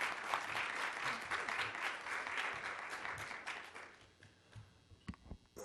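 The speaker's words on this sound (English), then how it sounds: "So let's give him a round of applause." A round of applause from a seminar audience greeting a speaker on autism detoxification, fairly quiet and distant clapping that thins out into a few scattered claps after about four seconds.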